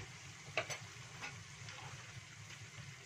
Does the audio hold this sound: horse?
no